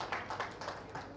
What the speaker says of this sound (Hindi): जोरदार तालियां विकास जी के लिए